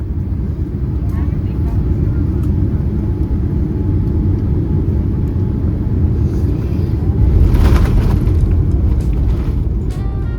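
Steady, loud cabin roar fills a Zipair Boeing 787 airliner on landing approach into Narita, a dense low rumble that swells slightly partway through with no break.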